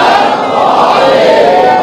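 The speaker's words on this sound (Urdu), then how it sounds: "صلوات پڑھ لیں مولا حسین کی ذات پر." A crowd at a religious gathering recites salawat aloud together, a dense, loud mass of voices chanting in unison across the whole short stretch.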